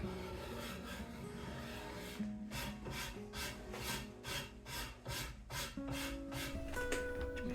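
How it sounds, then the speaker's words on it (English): A cloth soaked in rubbing alcohol is wiped over a wooden bow's surface before glue-up, making steady back-and-forth rasping strokes, close and even, with faint tonal sounds in the background. "Here I'm just prepping the surface with rubbing alcohol, making sure it's free of all oils and any debris left before I do the glue up."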